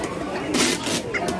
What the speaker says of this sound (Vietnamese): Chị ơi, đấy là gà Thái Lan.